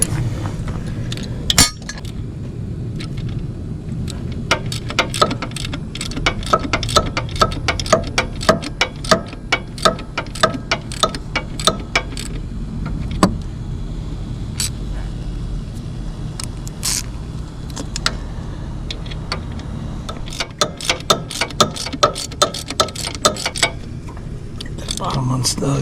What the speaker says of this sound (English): I'll tighten up the bottom one real quick.